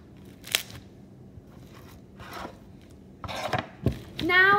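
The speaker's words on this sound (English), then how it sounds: "the initial top crunch was amazing." Crunchy slime is squished and pressed, giving a few scattered crackling crunches that build toward denser crinkling near the end, close up and fairly quiet, with no talking.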